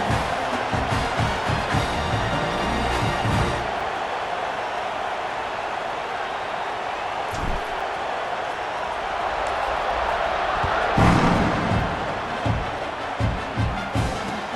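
Loud stadium crowd buzz in EA Sports College Football 26 before a kickoff, a sustained roar with rhythmic thumping that swells briefly near the end.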